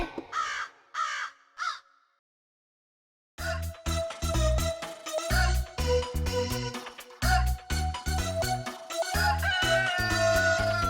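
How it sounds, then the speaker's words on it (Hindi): Three short caws of a rooster sound alone at first, followed by a pause and then loud rhythmic music from a children's song. "मुर्गा बोले कुकड़ूकू"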